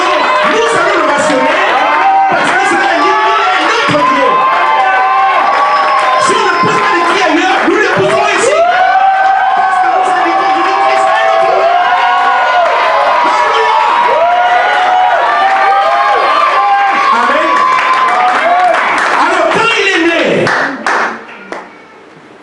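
A church congregation cheers loudly and acclaims together, with clapping, whoops, shouts and excited voices filling the room for about twenty seconds before it quickly dies down.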